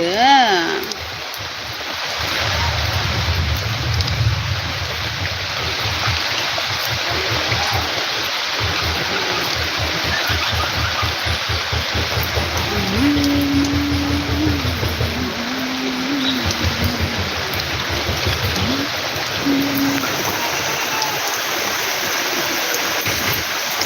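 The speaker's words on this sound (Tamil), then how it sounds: "மறுபடியும் மழை அதிகமாக பெய்ய ஆரம்பிச்சிருச்சு" Heavy rain pours steadily over a village, a dense, unbroken hiss that fills the whole clip, with faint voices rising briefly partway through.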